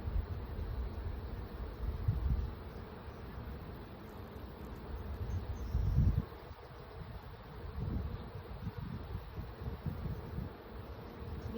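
Honey bees drone around an opened hive during a spring inspection, a low continuous buzz close by, mixed with rustling and wind bumps on the microphone.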